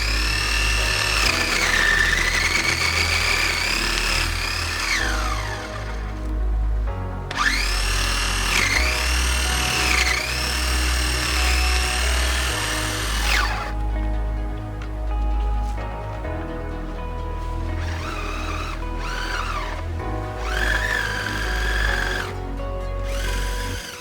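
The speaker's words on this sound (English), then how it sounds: "I was having some problems with the lawnmower. It isn't really cutting the grass necessarily." An electric lawn mower runs steadily with a whining, drill-like motor. Its pitch sags and recovers as it works through grass, with no talking.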